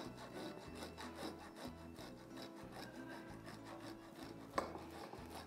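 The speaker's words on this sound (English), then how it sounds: "So what you have to do is to simply grate the pecorino cheese." Pecorino cheese being grated for cacio e pepe: a fast, steady rasping rhythm of close strokes against a grater, with a soft background hum, one brief knock near the end and no talking.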